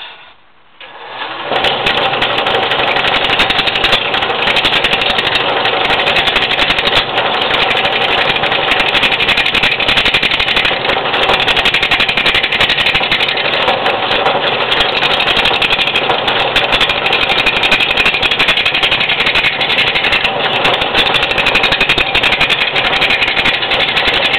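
Wood lathe spinning an off-center walnut football blank, a steady loud mechanical whir with rhythmic rattling and knocking from the offset wobble, running continuously and alone after a brief start.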